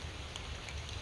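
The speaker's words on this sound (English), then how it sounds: "It's been pouring down, raining." Heavy rain pours steadily outdoors beside a green food plot during a rainy hunt, a dense continuous hiss with close patters of drops, loud and unbroken for about a second with no voices.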